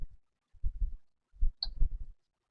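The push switch on a clip fan is pressed during a repair, giving several short, quiet clicking knocks in an uneven sequence, close to the microphone.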